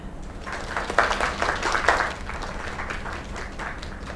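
A small crowd in the video game Lake gives a short, moderate round of applause at a bar celebration. The clapping swells briefly and then tapers into a low background murmur.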